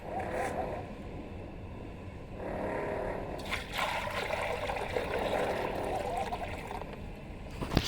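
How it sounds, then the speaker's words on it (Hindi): Water runs steadily into a large bucket, a continuous gushing splash with a shifting pitch as the level rises, fairly close and loud with no talk. "अब इसके अंदर पानी भर देता हूँ"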